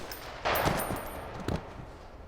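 Gunfire from a war TV episode: a sudden loud burst of shots with a sharp second report about a second later, followed by a lingering noisy rumble, with no talking.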